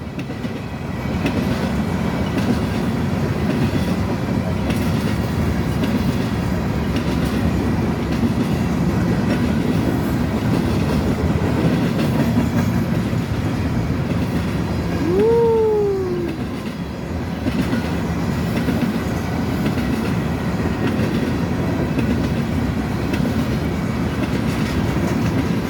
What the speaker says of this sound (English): Train's going fast. I repeat, train's going fast.